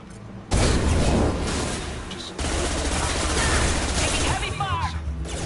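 Gunfire in the video game Mass Effect Legendary Edition, dense bursts of rapid shots and blasts in a loud, sustained fusillade after a quiet start, with a brief lull midway and voices speaking underneath.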